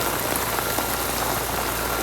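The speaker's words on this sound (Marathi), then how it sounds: "लांब पाऊस पडत आहे." Heavy, continuous rain falls in Dahanu, a dense and steady hiss with no pauses, heard on its own.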